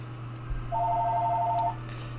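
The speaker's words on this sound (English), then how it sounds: "That's the phone again." Telephone ringing for about a second as a steady doubled electronic trill, moderately loud over a constant low hum, with no talking.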